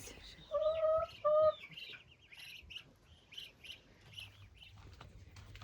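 Hens in a backyard coop give a couple of short, clear clucking calls near the start, followed by softer scattered chirps and squawks against quiet farmyard background, with no talking.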